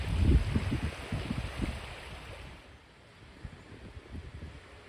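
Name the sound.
wind blowing along the trail by the water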